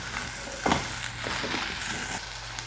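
Grated carrots sautéing in a kadai for carrot halwa give a steady soft sizzle with a few light stirring scrapes, close and even throughout.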